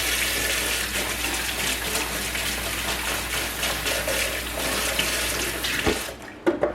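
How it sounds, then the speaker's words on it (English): Hands being washed under a running kitchen tap, a steady hiss of flowing water for several seconds before it shuts off with a few drips and small knocks at the end. "I'll wash my hands."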